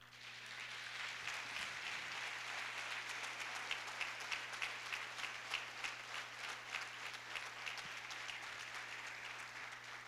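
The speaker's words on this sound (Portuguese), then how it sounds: "Aplauda o Senhor." A congregation claps during a church worship service, dense sustained applause with rapid overlapping hand claps lasting the full stretch, heard from a middle distance over a steady low hum.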